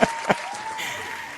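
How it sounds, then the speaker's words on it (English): Scattered clapping from a small group, a couple of sharp claps standing out before it settles into a thin, steady patter. "Round of applause."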